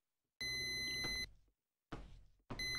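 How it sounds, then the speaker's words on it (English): An oven timer beeping inside the horror video game Doghouse 2, heard as steady electronic tones in two bursts with a brief knock or thud between them, fairly close and clear. "Is the oven beeping?"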